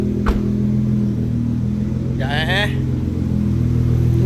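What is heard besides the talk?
car engine revving as a car is moved in a showroom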